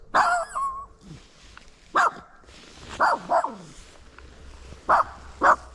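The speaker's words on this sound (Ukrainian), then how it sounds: "Чого ти гавкаєш?" A dog barks in several sharp, separate bursts, fairly close, with short quiet gaps between them and a bit of whining.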